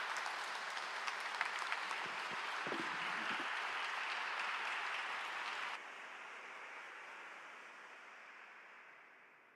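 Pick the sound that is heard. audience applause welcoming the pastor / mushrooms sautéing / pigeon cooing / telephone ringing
audience applause welcoming the pastor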